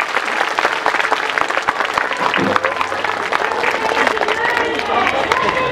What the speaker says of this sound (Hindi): मुख्य अतिथि जी नवाब कुमार सरानिया जी, जोरदार तालियों से स्वागत करेंगे।